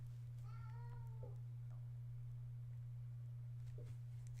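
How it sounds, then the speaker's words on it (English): A single faint meow rises and falls over a loud steady electrical hum, followed by quiet room noise. "I don't know if you can hear him meowing in the background."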